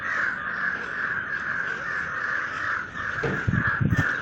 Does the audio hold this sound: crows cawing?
yes